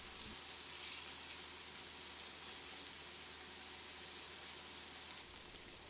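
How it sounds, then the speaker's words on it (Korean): Chicken thigh pieces shallow-frying in half a cup of oil over low heat, a steady, close crackling sizzle that stays even throughout. "적은 기름으로 튀기는 거라서 약불로 천천히 잘 익도록 뒤집어 줍니다."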